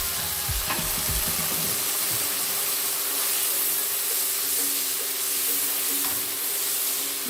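Garlic with a quarter cup of vinegar sizzles and hisses steadily in a hot pan, with a few soft scraping stirs near the start, close and continuous with no voices.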